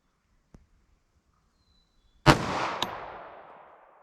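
A single sharp .380 ACP pistol shot cracks out at a short indoor-style range, followed by a decaying echo tail, with a faint click beforehand and otherwise near silence.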